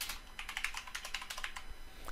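Someone types a meeting name on a computer keyboard, a quick, close run of light key clicks at an uneven pace with no talking.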